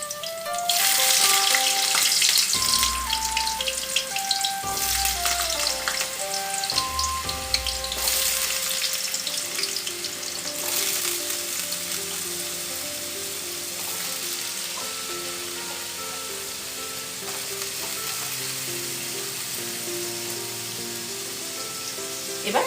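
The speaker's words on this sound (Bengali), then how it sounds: "এবার সেই আলুটা দিয়ে দিচ্ছি। এটা একটু হালকা করে আমরা ভেজে নেব।" Cut potatoes frying in hot oil for Bengali ghugni, a loud crackling sizzle with stirring clatter early on that gradually calms to a softer, even bubbling fry.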